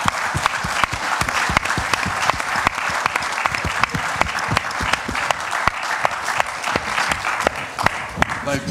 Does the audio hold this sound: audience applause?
yes